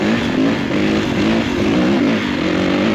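A 2023 Kawasaki KX450 dirt bike engine revs hard and close, a loud, continuous rasping drone with slight pitch wavering throughout, no voices.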